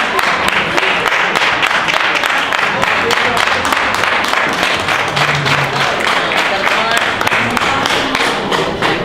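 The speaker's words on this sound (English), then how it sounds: "Let's clap it up for the mothers, y'all" Sustained applause from a crowd at a live poetry performance at a garden ball, dense clapping filling the room with steady rhythm while some voices talk underneath.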